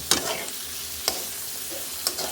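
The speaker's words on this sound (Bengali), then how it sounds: "শুকনো মাছটা এবার মশলাটার সাথে কষিয়ে দিতে হবে" Dried fish (shutki) frying in a pan with spices while being stirred, a steady sizzle under three sharp scraping strokes of the spoon spaced about a second apart.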